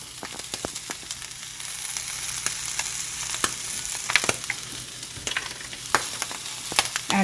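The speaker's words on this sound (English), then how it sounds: "you can hear the corn popping" Corn frying in a hot pan, a steady close sizzle with scattered sharp pops and crackles breaking through at irregular intervals, no voices over it.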